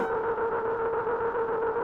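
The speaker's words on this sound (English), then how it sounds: "it doesn't really change the note, it just adds this like distortion, this noisiness to it" A Bullfrog XL synthesizer plays a sustained tone whose pitch is modulated by white noise, giving a steady buzzing note with a rough, gritty, distorted edge. It is continuous and fairly loud, with no voice over it.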